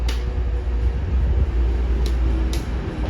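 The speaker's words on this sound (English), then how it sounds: "Alright, here comes the train." British Rail Class 222 Meridian diesel train pulling into a station platform, a steady low rumble and engine drone holding throughout with a couple of faint high hiss bursts.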